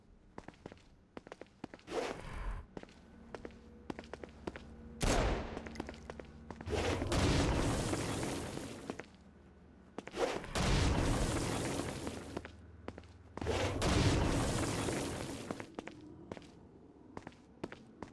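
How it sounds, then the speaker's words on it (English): Stone Blast attacks against flying demons in the video game Saints Row: Gat out of Hell, several loud booming blasts in irregular bursts, each trailing off, between short sharp clicks and thuds. "Stone Blast is especially useful on flying demons like this one."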